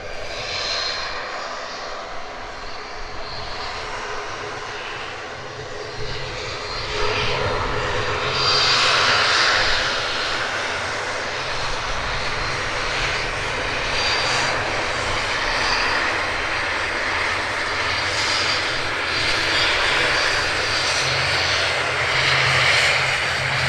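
An Aer Lingus ATR turboprop at Edinburgh Airport gives a loud, steady engine drone with a broad rushing roar that swells about a third of the way in and holds strong until the end.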